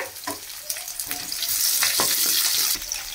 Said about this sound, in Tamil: இதையும் போட்டு நல்லா பூண்டு ப்ரௌன் ஆகிற அளவுக்கு நல்லா வதக்கலாங்க